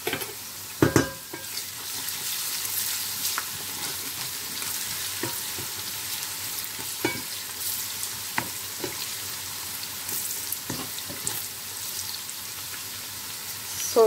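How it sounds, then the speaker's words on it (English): Onions browning in a pot while cooking Nigerian jollof rice: a continuous close sizzle punctuated by scattered sharp spoon knocks and stirring clatter, with no one speaking. "So the onions is almost like getting brown"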